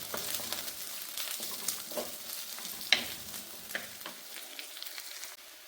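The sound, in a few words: shallots and curry leaves sautéing in coconut oil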